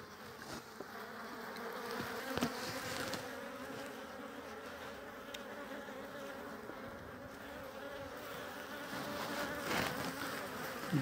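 Dense, steady buzzing of many honeybees close by in an open hive, a continuous droning hum with no voices.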